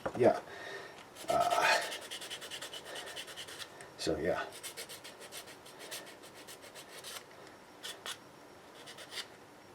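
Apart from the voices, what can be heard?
sanding a 3D printed part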